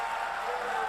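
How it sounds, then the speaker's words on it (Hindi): Applause from an audience at a Hindi comic poetry recital, a steady dense wash of clapping at moderate distance with no clear individual claps standing out. "भाई ताली वाली बजाओ यार"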